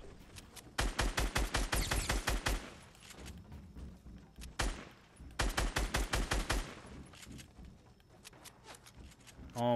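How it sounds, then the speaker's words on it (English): Fortnite gunfire in a No Shield Challenge match: two long bursts of rapid automatic shots, the first around 1–3 seconds and the second around 5–7 seconds, with a single shot between them. Loud and close, separated by quieter game ambience. "there's another person shooting at me south"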